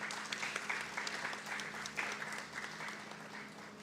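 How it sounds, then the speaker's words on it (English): An audience at a tech expo awards ceremony claps in a steady burst of applause, dense and moderately distant, that slowly tapers off. "Let's give them a round of applause."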